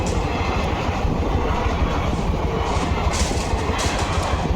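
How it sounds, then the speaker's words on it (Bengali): A train rolling past a level crossing on the Salar new road in Murshidabad, a loud, close, continuous rumble and rattle of wheels and wagons that holds steady throughout without voices. "তো যেমনটা দেখছো ট্রেনটা চলে গেল,"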